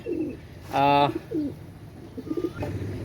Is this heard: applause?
no